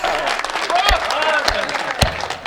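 An audience at a Hindi comedy poetry gathering bursts into sustained applause, a dense crowd of clapping with a few sharp louder claps and voices underneath.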